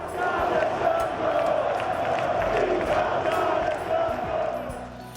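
A dense football crowd roars and cheers continuously for a club idol, the sustained wall of voices and clapping steady and loud from start to finish.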